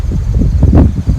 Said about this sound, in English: Sorry about the noise, it's kind of windy out here.